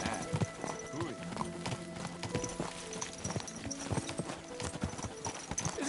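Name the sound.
horse hooves clip-clopping while riding, from Kingdom Come Deliverance 2 video game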